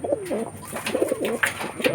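A pigeon coos repeatedly at close range, soft throaty calls in a steady rhythm against a faint high background hiss.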